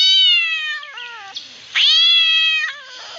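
Black cat meowing, two long, loud, close calls separated by a short quieter gap, with a few softer chirps between them.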